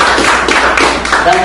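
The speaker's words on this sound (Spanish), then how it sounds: "Denle un buen aplauso, Señor, en esta noche." Congregation at a church service applauding, a dense continuous wash of clapping hands with a voice speaking over it toward the end.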